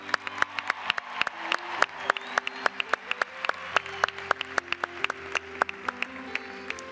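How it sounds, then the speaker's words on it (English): Sparse, sharp individual claps ring out in a large convention hall at the 90th National FFA Convention & Expo, distinct and fairly evenly spaced over a sustained tonal background. "Let's have a huge round of applause"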